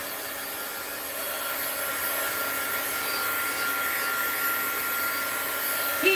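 Heat gun running continuously to dry an art project, a steady, loud blowing whine that holds level throughout with a faint bump at the end.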